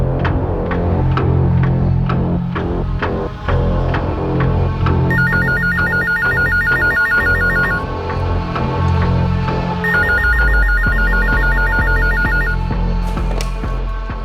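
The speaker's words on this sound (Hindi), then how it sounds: "अज्ञात औरत का फोन कॉल दोबारा आया।" A telephone rings twice in a repeating electronic trill, heard over a loud droning hum and rhythmic low pulsing music.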